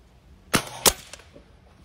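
Daisy 1101S air pistol firing pellets: two sharp, close snapping pops about a third of a second apart, followed by a faint brief rattle, with near silence around them.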